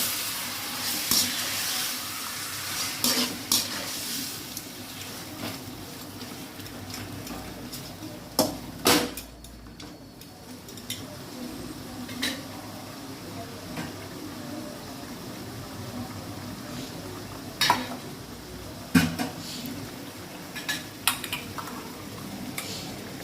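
Washed chicken pieces are tossed and stirred in a pan, with a low hiss and scattered sharp clinks and taps of a utensil against the metal recurring over a long stretch.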